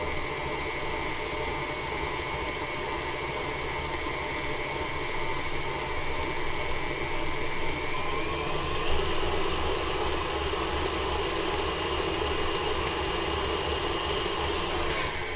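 An electric mixer creams butter and sugar for cookie dough, giving a steady close motor whir that holds throughout with a slight shift in pitch near the middle.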